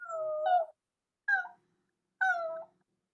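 Singers in a vocal workshop imitate a cat's meow as a warm-up exercise, three separate nasal meow-like vocal calls, the first long and the next two shorter, close and clear against silence.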